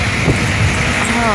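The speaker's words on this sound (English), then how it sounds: "I felt like the wind was so strong" Strong wind roars against the microphone in a snowstorm, a loud, continuous buffeting rush that fills the whole short moment.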